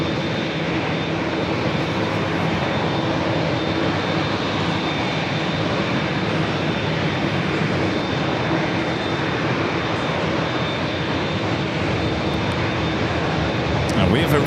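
An airplane takes off from runway 27 at San Diego airport, a steady loud engine roar that holds for the whole stretch, while voices talk over it.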